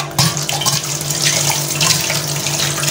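A cup is rinsed under a running kitchen tap, giving a steady, close hiss and splash of water that carries on without a break.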